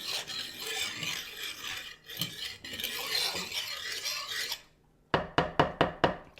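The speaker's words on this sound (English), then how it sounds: "I'm going to stir this real good until it's all incorporated." A bowl of bread dough mixture, still thin and milky, being stirred steadily with a utensil, a continuous scraping swish for about four seconds, then a pause and a quick series of sharp knocks against the bowl rim.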